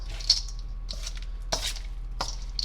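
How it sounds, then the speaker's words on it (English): A spoon stirs cooked pasta through a creamy chicken casserole, giving a few soft, wet scrapes and squishy clanks against the dish at close range. There is no talk, only a steady low hum underneath. "Let me just get my spoon. Oh, I'm just gonna mix it through"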